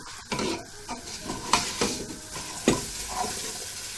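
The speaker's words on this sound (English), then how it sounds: "Give it a good stir." A spoon stirs aubergine and potato curry in a hot pan, giving a run of scraping, clattering strokes over a steady sizzle, with a few sharper knocks against the pan.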